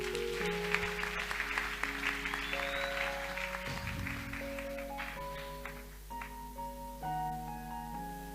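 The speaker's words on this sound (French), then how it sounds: "On acclame le Seigneur." A church congregation claps together in a burst of applause that fades over sustained keyboard or organ chords.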